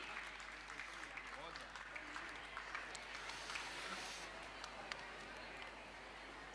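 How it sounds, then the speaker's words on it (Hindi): Audience at a Jain religious festival gathering in Bhopal applauding, a faint, sustained patter of many hands clapping heard from a distance. "एक बार जोरदार तालियां आमंत्रित हैं"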